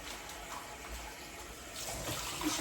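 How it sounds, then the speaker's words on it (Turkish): Potatoes are rinsed under a running kitchen tap, with a soft, steady stream of water splashing at moderate distance and growing slightly louder toward the end, with no talking. "Patateslerimizi yıkayayım, sudan geçireyim."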